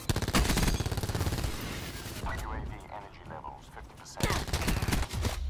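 Bursts of rapid automatic gunfire in Black Ops 4 multiplayer, loud at the start, easing off midway, then returning in another dense burst near the end, with a player talking over it.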